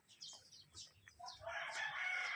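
A large chicken with feathered feet crows and clucks up close, a few short calls rising into a sustained loud crow with no voices present.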